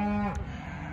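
A cow from a farm herd lets out a single loud, close moo that slides downward and fades, leaving quiet barn ambience.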